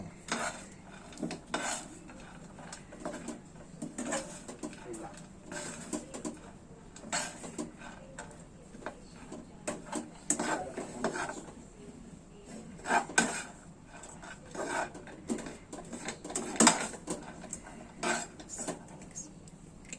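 Tempe ingredients are stirred in a pan over a fairly high flame: repeated scraping and clattering of a utensil against the pan, close and irregular, with no voices.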